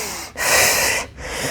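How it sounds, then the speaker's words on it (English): A woman breathing while tightening her core and pelvic floor: two close, audible breaths, a long exhale or inhale followed by a shorter one after a brief pause. "you can still breathe like that"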